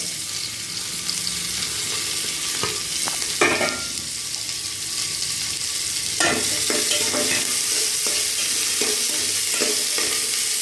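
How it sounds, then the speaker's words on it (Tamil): Onions sautéing in a pan for spinach keerai kulambu, with a steady close sizzle broken by scraping stirs and occasional knocks of a spoon against the pan. "இப்போ நல்லா வெங்காயம் வதங்கிடுச்சு"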